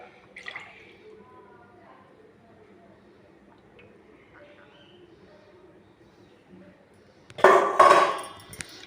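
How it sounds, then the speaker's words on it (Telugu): Coconut oil pours into a kadai set over a medium gas flame while homemade hair oil is prepared, a short loud splashing burst near the end after a long quiet stretch of faint kitchen background. "కొబ్బరి నూనె పోసేద్దాం."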